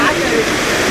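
A hidden waterfall near Hayathnagar, Hyderabad rushes as a dense, loud wash of falling water, steady through a brief moment.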